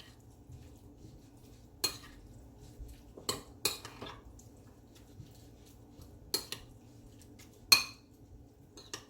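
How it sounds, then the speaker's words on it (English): Salmon recipe ingredients being combined in a bowl, with occasional sharp clinks of a utensil against the dish and soft stirring scrapes between them, close and fairly quiet, no talk. "just going to combine all these ingredients"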